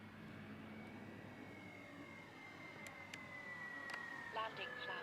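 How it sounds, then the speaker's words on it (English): An RV-8 model airplane, a large 60E-powered Super Flex Innovations aircraft, approaches for landing with a steady, moderately loud motor whine. The pitch rises slightly toward the end, and the sound is heard alone with no talk. "So here we go, coming in for landing."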